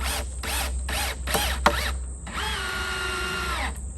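A power drill driving screws into a wooden survival-base build, several short whirring pulses then a longer sustained high-pitched spin, loud and close.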